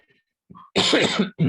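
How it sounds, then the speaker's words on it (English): A single harsh, loud cough close to the mic, preceded by a brief throat clearing and followed by the start of another. "Sorry, very sorry about my cough."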